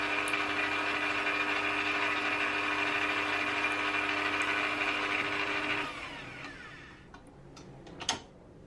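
A stand mixer works bread dough with a flat hook, a steady mechanical motor hum with a ticking rhythm for about six seconds, then winding down to quieter clicks and a brief knock.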